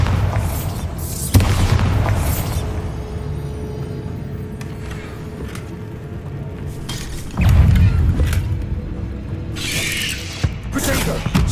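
A Bombarda spell goes off in Hogwarts Legacy, giving deep booming blasts near 1.5 and 7.5 seconds over continuous rumbling combat noise and clatter, with no talk.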